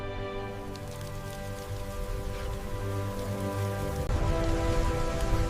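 Rain falls in a steady, dense patter on surfaces, close and continuous, growing slightly heavier toward the end, with a faint tonal hum beneath.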